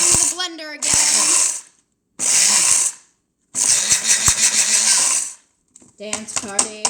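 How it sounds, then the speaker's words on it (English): A kitchen blender whirs loudly in three bursts separated by short silences while making a pie, a high, harsh motor whine that starts and stops abruptly, with voices briefly at the start and end. "Let's do the blender again."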